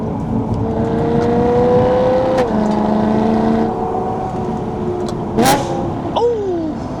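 A BMW E92 M3 sports car exhaust revs loudly, rising and holding, then drops with sharp blips and crackles as the throttle snaps shut twice near the end.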